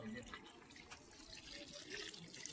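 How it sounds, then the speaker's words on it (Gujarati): Steady running water pours from a tap, a continuous gentle splashing stream that holds the whole time. "પાણી આવે છે શરૂ કરો"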